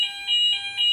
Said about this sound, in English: this was the fire alarm that went on.